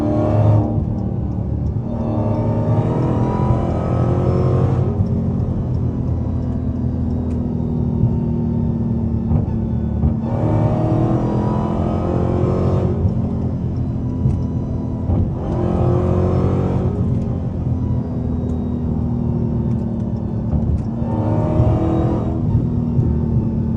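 A Dodge SRT Hellcat engine roars close and loud, its heavy rumble surging in repeated revs and accelerating pulls over about twenty seconds, with deep exhaust drone throughout.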